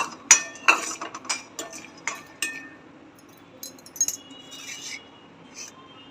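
Whole black cardamom pods rattling and clinking against a metal pan with a utensil while dry-roasting, a series of bright, close metallic taps that are busy at first and then thin out.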